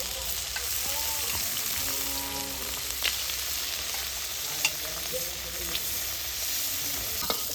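Cashews and raisins frying in hot ghee in a wok give a steady, close sizzle and crackle, with occasional sharper pops and faint stirring scrapes, no voices.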